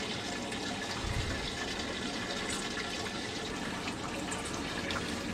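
A water curtain runs in an enamel glazing booth driven by a pump, giving a steady, broad rushing and splashing wash of falling water with a low rumble and no voices.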